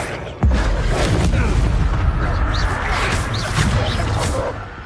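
In the Hogwarts Legacy video game, an Incendio fire spell goes off with a sudden loud whooshing burst that holds as a dense roar for several seconds before easing slightly.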